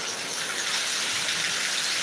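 Heavy rain pours in Thiruvananthapuram, a steady hiss of falling water that stays fairly faint and even throughout, with no voices.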